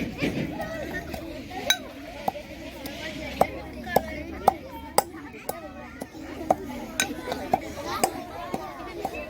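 Sharp, evenly spaced thuds of giloy and other herbs being pounded for a fever remedy ring out, roughly one each half second, under children's voices and chatter in the background.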